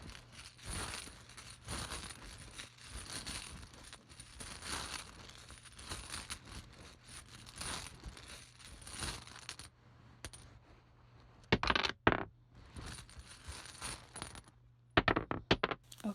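Tarot tiles pulled and shuffled by hand, a dense run of small clicking, clattering knocks that continues steadily, then thins into a few sharper separate clacks and rattles toward the end, with no talking.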